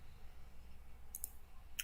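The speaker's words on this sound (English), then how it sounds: "Let's get to typing." A few faint, sharp clicks from a computer keyboard arrive in a short cluster and then a single tap, over quiet room hiss.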